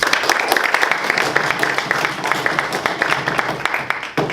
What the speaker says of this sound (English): round of applause for all of you for making to this meeting once again